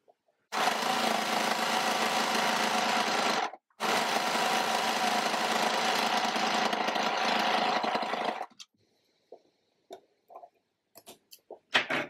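A sewing machine stitches a seam on a beginner-made co-ord outfit, running steadily and loudly for about three seconds, pausing briefly, then running again for nearly five seconds before stopping, followed by a few scattered handling clicks.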